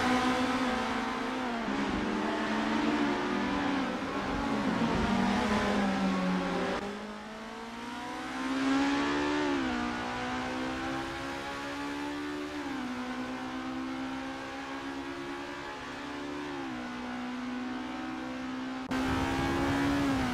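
Formula race cars in the racing game Assetto Corsa scream at high revs at Mont Tremblant, a sustained engine whine rising and dipping with gear changes and throttle, loud and continuous without speech.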